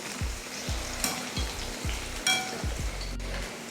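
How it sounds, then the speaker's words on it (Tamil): Curry leaves frying in hot oil with mutton chilli, a steady close sizzle and crackle with repeated rhythmic stirring or scraping knocks, with no talking. "லாஸ்ட்டாக கருவேப்பிலை போட்டுட்டு பொரிச்சிட்டு இறக்கிக்கலாம்."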